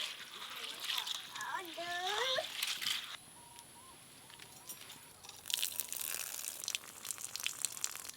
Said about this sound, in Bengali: এবার চালটা ভালো করে ধুয়ে নেব।